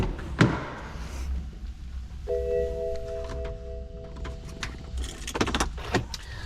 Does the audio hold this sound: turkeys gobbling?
no